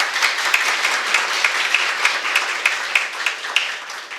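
Crowd applause for children at a National Flag Day fundraiser ceremony honouring organizations, steady dense clapping with scattered louder claps throughout, no talking.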